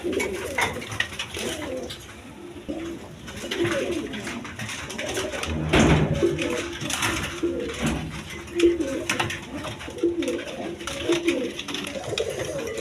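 Pigeons, including male birds kept for sale, coo continuously in a busy, overlapping chorus close by, with soft rolling calls rising and falling over a noisy background.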